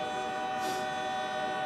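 A train horn blares in one loud, steady, sustained tone as the train passes close by, with a brief swell of rushing noise midway and no talking.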